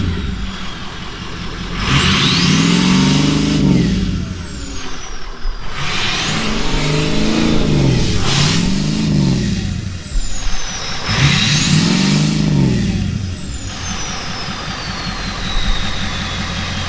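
A Ford 6.0 Powerstroke diesel with a newly installed exhaust and muffler, heard up close idling then revving in three swelling, rising-and-falling bursts before settling back, with a steady rumbling throughout.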